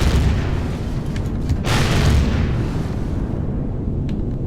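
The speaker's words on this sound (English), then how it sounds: "That's when I start shooting rockets." Rocket fire and explosions in the space survival game Empyrion: a dense, continuous booming rumble with a stronger blast swelling near the middle, loud and steady throughout.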